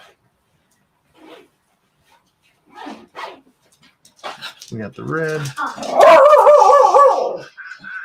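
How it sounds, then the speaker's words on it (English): A pet dog at home greets arriving guests with a run of loud, close barks and whining yips building toward the end, mixed with people talking nearby. "There's our dog welcoming guests."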